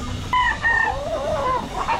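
A late-born banded santan gamefowl rooster crows up close on a gamefarm, loud and hoarse, with the call wavering across the full two seconds.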